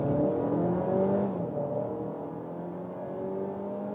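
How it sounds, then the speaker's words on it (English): A 2025 Volkswagen Tiguan SUV with a 1.5 TSI petrol engine accelerates, its engine note rising in pitch through the gears and then settling into a steady cruising hum heard from inside the car. "Have the pure petrol engine sound."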